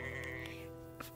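Sheep on a farm give a single drawn-out bleat, quavering and fairly close, heard alone with no talking.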